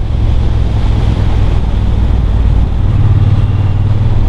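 A Triumph Bonneville T120 motorcycle engine drones loudly and continuously while riding, a deep steady roar with rushing wind noise throughout.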